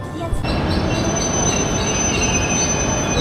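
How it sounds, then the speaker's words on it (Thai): A train rolls steadily along the rails with a loud, continuous rumble and high, sustained wheel squeal, heard close up from on board or beside the track. "เดี๋ยวเราจะนั่งขบวนสีแดงเนี่ยไป"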